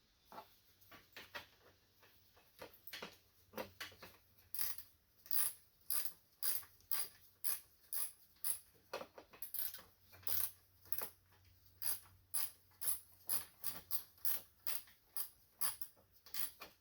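A bracket bolt being threaded by hand into a Honda V6 engine during spark plug work, giving faint, steady metallic clicks and ratcheting ticks that repeat quickly and evenly, close by, with no talking.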